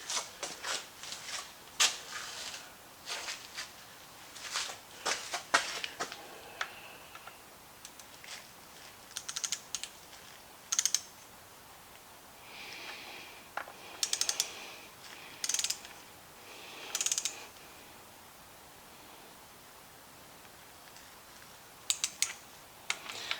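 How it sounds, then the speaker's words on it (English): A torque wrench ratchets while tightening the rod bearing bolts on pistons during an engine build for a Willys rat rod, giving clustered sharp metallic clicks in irregular bursts with pauses, close up. "we're going to tighten these down. Torque them."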